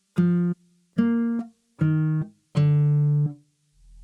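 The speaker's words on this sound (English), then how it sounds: "And then this is the bass line." An R&B bass line built in FL Studio plays four short, deep synth bass notes in a loose rhythm, the last held longest, each ending abruptly with clean silence between.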